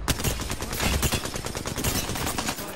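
Rapid automatic gunfire in the video game Apex Legends, a dense, continuous rattle of shots running the full length without pause, loud and up close, with no voices over it.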